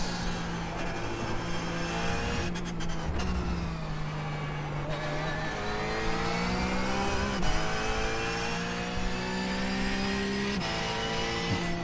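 A Porsche 911 Cup race car at Suzuka, its engine note dropping and climbing in stepped pitch sweeps as it brakes hard and downshifts, loud and continuous from onboard.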